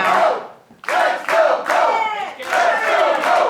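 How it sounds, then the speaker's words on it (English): A loud wrestling crowd at the NWA Arena chants in rhythmic, repeated bursts, many voices swelling together with short pauses between phrases. "you can hear the chants of the crowd here at the NWA Arena"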